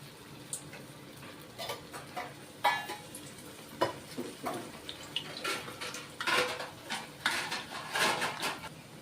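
Tokri chaat frying in hot oil over a medium gas flame, with soft sizzling under a series of scattered clinks and scrapes of a spoon against the pan and utensils.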